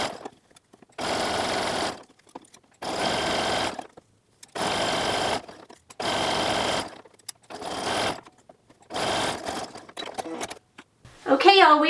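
Home sewing machine zigzag stitching elastic onto a fabric band for a bikini top: six or seven loud, close bursts of rapid motor-driven stitching, each about a second long, separated by short pauses, with brief talk at the end.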